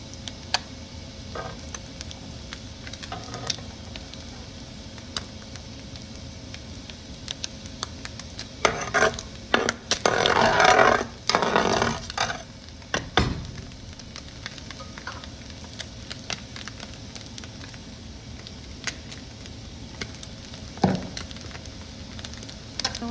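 Onions frying in oil in a home kitchen pan for a Bengali-style egg pasta, a soft steady sizzle with stirring scrapes and a louder burst of crackling midway, no one speaking.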